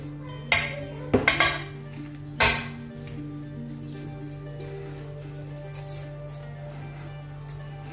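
A few sharp metallic clinks and scrapes of utensils against a metal plate, close by, over a steady low hum.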